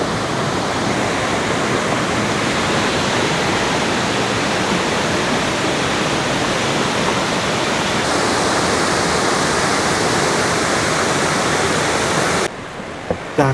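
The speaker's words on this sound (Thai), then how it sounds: "เจอน้ำตกชั้นสองม่านขมิ้น เป็นชั้นที่นักท่องเที่ยวนิยมเล่นน้ำมากที่สุด" Steady, loud roar of Huai Mae Khamin waterfall's second tier in Kanchanaburi, a continuous broadband rush of falling water that stays close and unbroken until it drops away abruptly near the end.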